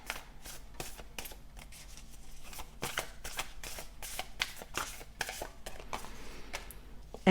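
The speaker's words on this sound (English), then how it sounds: "I'm just gonna take out a significator card for you." Tarot cards being shuffled and handled while a significator card is drawn from the deck, a close run of crisp riffling and slapping card sounds in uneven bursts with no talk.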